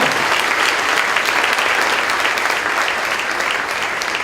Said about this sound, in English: Let's give them a Blue Zone round of applause.